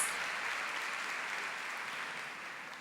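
An audience at a Catholic talk claps steadily in a dense, even burst of applause that holds at a constant level and fades only slightly, with no voices over it.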